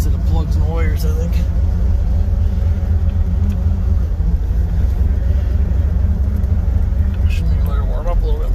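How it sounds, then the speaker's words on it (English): A farm vehicle's engine idles outdoors while warming up, a loud, steady low rumble running the whole time with a voice talking over it. "Should maybe let her warm up a little bit longer. It doesn't do much but idle out here though"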